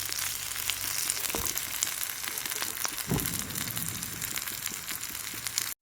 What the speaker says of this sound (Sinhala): මේක හොඳට බදිනවා.